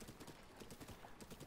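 Horse galloping through a swamp in The Legend of Zelda: Breath of the Wild, rapid steady clip-clop hoofbeats at an even rhythm, fairly close, with no talking over them.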